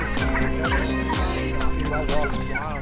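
Wild turkey gobbling outdoors, several rapid rattling gobbles repeated in quick bursts, loud and close with no talking.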